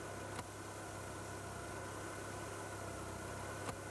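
A steady, low Austin Rover single point injection engine idle drones on without pause, with faint brief clicks near the start and end, no talking.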